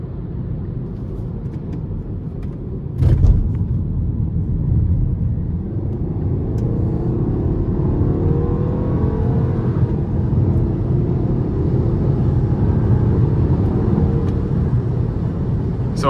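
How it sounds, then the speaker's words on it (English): Turbocharged 2015 Volkswagen Passat engine pulling steadily in manual mode while accelerating onto an interstate, a continuous low rumble with rising whir as revs climb, plus a brief thump near the start; no talking. "I'm gonna put it into the manual mode and I'm gonna see how it does getting on the interstate."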